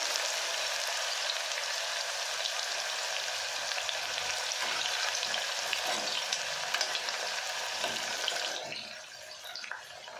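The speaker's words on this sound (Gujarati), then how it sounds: "હવે આપણું તેલ સરસ ગરમ થઈ ગયું છે. તો આપણે આ કંટોલાને એમની અંદર નાખી દઈશું." Sliced spiny gourd (kantola) fries in hot oil with a dense, even sizzle and bubbling close by, easing off slightly near the end, with no talking.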